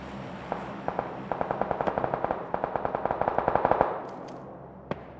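Rapid bursts of automatic gunfire in PUBG crackle from a distance, rising into a steady, echoing string of shots and then breaking off, with a single later report.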